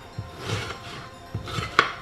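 Knife chopping scotch bonnets, chili pepper, sweet pepper and onion on a board for Ghana green shito, soft scattered cuts with one sharper knock near the end, fairly quiet and close, no talking.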